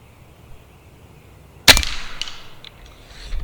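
A Hatsan Model 135QE .25 caliber air rifle fires a single pellet: one sharp, loud crack followed by a brief fading ring, with quiet outdoor background before and after.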